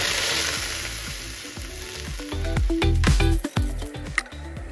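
Onion juice hits hot white oil with whole garam masala for a homestyle mutton biryani, erupting into a loud, bubbling sizzle that swells and crackles up close.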